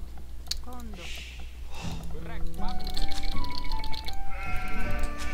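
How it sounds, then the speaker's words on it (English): Sheep bleat in the Age of Empires II HD real-time strategy game, with several short wavering bleats early on, followed by tonal game sounds and scattered keyboard typing. "Gonna get another one of those sheep out of my TC."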